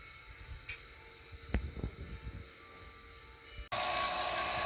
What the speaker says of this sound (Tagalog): So yan, babacuumin na natin to.